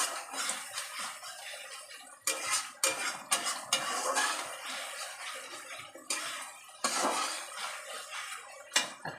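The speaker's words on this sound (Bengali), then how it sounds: "দিয়ে এবার ভালো করে কষাবো।" Spices for a tilapia fish curry being stir-fried in a pan, heard as intermittent clatter and scraping of a utensil against cookware, fairly quiet and close, in irregular bursts with pauses and no talking.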